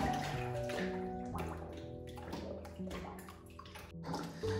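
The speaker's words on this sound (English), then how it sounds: "when I throw the bucket in, we pretty much instantly hit water" A bucket thrown down an indoor well in a historic hall, striking the water almost at once with splashing, sloshing and dripping sounds that go on for several seconds, close and fairly loud with no talking.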